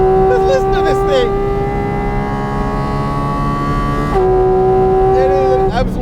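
A Porsche 718 Cayman GT4 RS engine screams loudly through the gears, a sustained high-revving howl that climbs, dips briefly at a shift, then climbs again, close and dominant.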